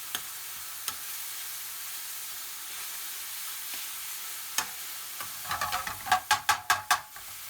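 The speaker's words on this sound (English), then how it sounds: "Turn up the heat and add the garlic and ginger, stir in and cook for 30 seconds." Garlic and ginger sizzle over high heat in a pan for a curry base, faint at first with a few isolated taps, then a run of sharp, rhythmic scraping stirs and hissing bursts near the end.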